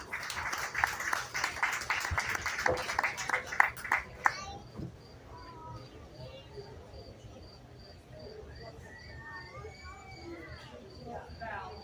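A crowd at the 2023 Ida County Fair 4-H and FFA beef show claps for exhibitors in a busy, steady burst lasting about four seconds. It then cuts off, leaving a quiet barn murmur behind.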